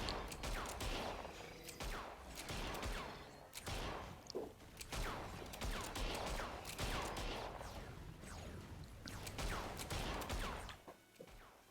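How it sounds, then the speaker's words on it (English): Faint, muffled bursts of video game gunfire, from Evil Genius 2, repeat at irregular intervals, several volleys in a row, distant and dull as if heard through a wall from the floor above. "I can hear the gunshots from the floor above."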